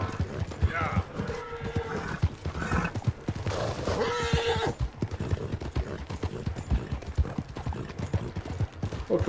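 Steady clip-clop of hooves with horse whinnies and snorts, galloping continuously throughout, with a rumbling outdoor backdrop, as a horse is ridden in the mountains in Red Dead Redemption 2.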